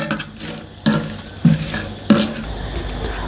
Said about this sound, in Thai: ผัดเครื่องเทศกับน้ำมันมาได้ 5 นาทีนะครับ